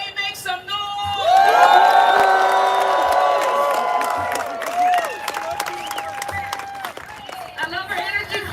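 A crowd at a reparations rally cheers, whoops and shouts in a loud surge that swells after a second and fades gradually, with high-pitched yells over the roar and some voices nearby.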